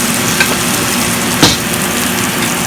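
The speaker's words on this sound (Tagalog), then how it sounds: "Ito, nagigisa na ako ng bawang sibuyas." Garlic and onion sauté in a pan with a constant close hiss, broken by a couple of brief utensil clinks or stirring knocks, and no talking.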